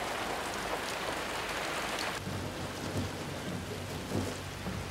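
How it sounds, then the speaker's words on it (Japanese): Steady heavy rain hisses down throughout, with a low rumble of thunder rolling in under the downpour from about halfway on. "雨っすよ。"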